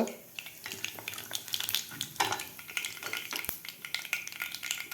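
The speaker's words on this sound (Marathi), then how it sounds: "मोहरी आपल्याला व्यवस्थित फुलू द्यायची आहे गॅस आपल्याला कमीच ठेवायचा आहे" Mustard seeds spluttering in hot oil on a low gas flame for a fenugreek curry, with dense crackling pops and a sharp spatter over a soft sizzle, close by with no voices.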